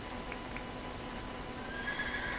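A Minecraft horse whinnies faintly over a steady background hum, with a thin high tone creeping in near the end.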